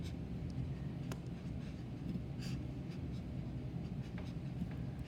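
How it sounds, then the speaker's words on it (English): A pen scratches across paper as a formula is written out by hand, giving faint, irregular strokes and taps over a quiet room hum. "I always like to write the formula"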